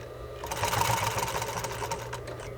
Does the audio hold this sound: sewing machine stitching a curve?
yes